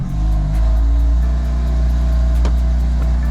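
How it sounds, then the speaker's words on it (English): A BMW M car's engine running steadily after being switched on, a continuous low rumble with a mild rise in revs near the start and a brief click partway through. "turn the car on,"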